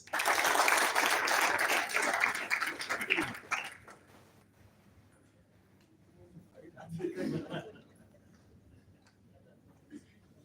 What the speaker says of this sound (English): Please welcome with a big round of applause.